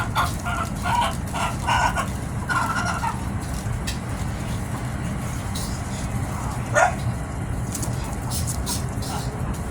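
Chickens cluck and cackle over a constant background rumble, with short bursts of clucking scattered throughout and one louder squawk midway.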